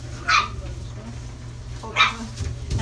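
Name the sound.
puppy dog whimpering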